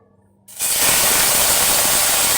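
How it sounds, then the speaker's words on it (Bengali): Pressed dried fish (chapa shutki) hits a little hot oil in a pan and sets off a sudden, loud, continuous hiss of sizzling that stays steady to the end. "শুটকিটা ভাজা নিব, চাপা শুটকি"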